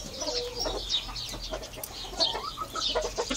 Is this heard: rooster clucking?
yes